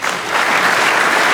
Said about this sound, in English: JB, this Crucible crowd, most of them are on their feet